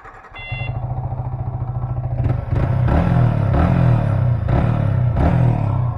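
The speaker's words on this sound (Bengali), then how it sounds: "আর বাইকের সাউন্ড তো" Motorcycle engine running after a repair with new front and rear wheel bearings, a steady low idle that jumps louder at about two seconds into repeated revs, several throttle blips in a row, close by with no talk.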